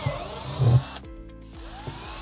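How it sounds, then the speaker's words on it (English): A power drill whirs briefly for about half a second while drilling into a plastic planter, then stops, with a short mechanical rattle and quiet handling noise afterward. "Thankfully, this is plastic, so it'll be pretty easy for me to drill some myself."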